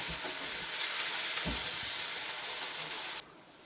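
Jackfruit kofta balls frying in hot oil in a pan: a steady, dense sizzle runs close and loud with a few soft knocks as the balls are turned, then cuts off abruptly near the end, leaving quiet hiss.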